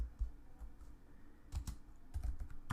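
Code is typed on a computer keyboard in a short burst, with scattered clicks at first, then a quicker cluster of sharper keystrokes, close up and without speech.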